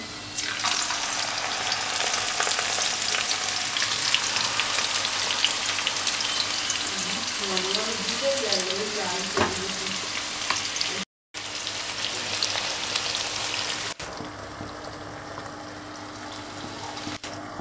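Marinated raw hilsa fish frying in hot oil in a kadai, a steady loud sizzle running throughout with a brief break partway, the hiss easing slightly near the end.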